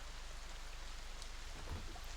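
Steady rain ambience with soft drumming of drops and a faint low rumble like distant thunder, playing quietly and continuously as a backdrop to a tabletop role-playing game.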